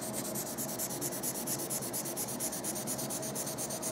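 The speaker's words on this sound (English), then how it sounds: "with a bit of 1200 grit paper, I'm just taking off the high spots of that corrosion" A corroded upside-down motorcycle fork tube is being sanded with 1200 grit paper. It gives a continuous, close, rhythmic rasping rub with quick strokes at an even pace, and no talking.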